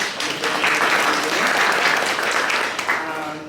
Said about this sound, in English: So I just want to give a round of applause to congratulate you.